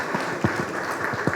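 Audience applause at a birthday gathering, a steady wash of many hands clapping at moderate volume with a few sharper individual claps standing out, no voices over it.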